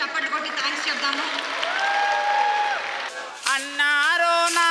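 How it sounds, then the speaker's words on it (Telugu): An audience claps together at a live music concert during a village festival event held at a school, with the broadband applause blending into sustained musical tones before a singing voice and instruments take over. "ఒక్కసారి వీళ్ళందరికీ గట్టిగా చప్పట్లు కొట్టి థ్యాంక్స్ చెప్దాము"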